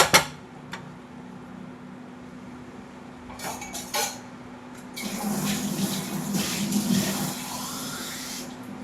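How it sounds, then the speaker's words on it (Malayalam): Water is poured into a metal pot from about five seconds on, a steady splashing pour after a few clinks of utensils on cookware. "എത്ര വെള്ളം വേണ്ട അതിനനുസരിച്ചൊക്കെ ഒഴിച്ചു കൊടുക്കട്ടെ"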